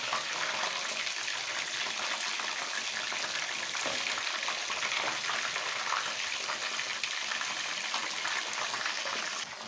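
Restaurant-style seekh kebabs fry in a pan, giving an even, unbroken sizzle that holds at a moderate level close by throughout.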